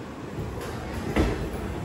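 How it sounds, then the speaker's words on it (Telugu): A special superfast express train pulls out of Samalkot Junction, heard from inside the carriage as a low, steady rumble with a faint high whine and a brief louder knock partway through. "సామర్లకోట జంక్షన్ నుంచి మళ్ళీ మన ట్రైన్ అయితే స్టార్ట్ అయిపోయింది"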